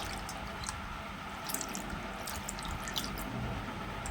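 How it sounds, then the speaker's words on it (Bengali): Water is poured and drips while Radha-Krishna idols are bathed during a home ritual, a steady close trickle with brighter splashes and drips in the latter half, and no voices. "তারপর আবার সামান্য জল দিয়ে আমি কিন্তু ঠাকুরকে পরিষ্কারভাবে স্নান করিয়ে নিলাম।"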